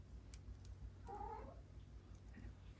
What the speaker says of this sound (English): And I'm sure you just heard my cats.